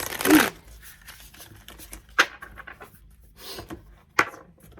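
Tarot cards being shuffled in several quick riffling bursts, with short pauses between them and faint background sound.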